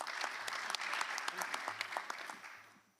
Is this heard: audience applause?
yes